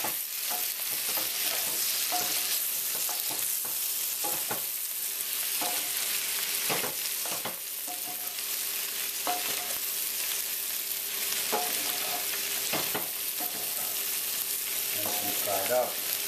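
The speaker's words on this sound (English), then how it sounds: "we're going to turn this way high, and we're going to mix." Potatoes and onions fry on high heat in a pan, sizzling steadily while a utensil stirs and scrapes through them in repeated short strokes, close and continuous.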